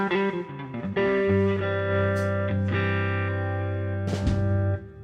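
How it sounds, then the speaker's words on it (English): Sustained electric guitar notes and chords played through a Greg Koch amp with lush reverb, ringing out loud and close with long tails and a final chord fading out. "the reverb on the Greg amp is delish"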